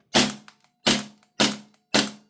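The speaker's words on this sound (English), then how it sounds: "if we put it to full auto, you'll see I should be able to do the two-stage" A KWA/KSC MP9A1 gas blowback airsoft SMG fires four sharp, loud, separate cracking shots at an even pace of about one every 0.6 seconds, close up, each with a brief mechanical clack after it.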